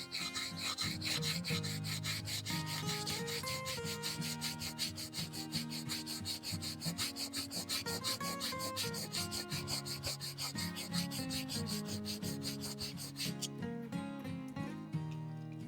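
A carving knife is sharpened on a grit stone, giving repeated rhythmic rasping strokes close by that run evenly and steadily throughout.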